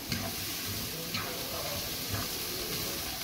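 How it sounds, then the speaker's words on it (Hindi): Boiled black chickpeas fry in a spiced masala over high heat, giving a soft continuous sizzle with light stirring clicks, close and fairly quiet, with no talking. "इन 2 काले छोले जो बने लिए थे मैंने मसाले के अंदर को डाल दिया है, और हम इसको थोड़ा सा फ्राई कर रहे हैं।"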